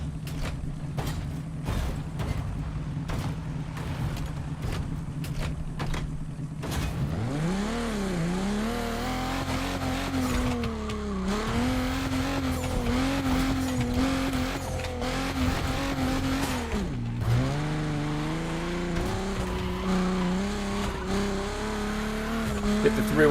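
A Buick Regal races in The Crew Motorfest, its engine tone rising and falling through gear changes with tire squeal and skidding, loud and continuous for the whole stretch after a steady idle-like drone at the start.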